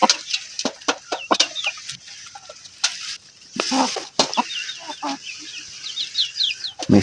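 Several chickens cluck and chatter up close while being fed corn, with sharp pecking and scattering noises between the calls, no voices present.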